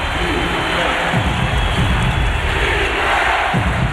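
A packed basketball arena crowd roars loudly and steadily during an NBA playoff game between the New Orleans Hornets and Dallas Mavericks, a dense wall of cheering and shouting that never lets up.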